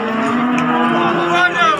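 A single loud, close moo from cattle, steady and sustained for about two seconds.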